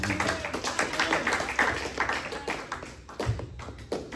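A church congregation claps during a prayer session, uneven bursts of hand claps and taps in a reverberant hall, moderately loud with irregular rhythm and faint background noise.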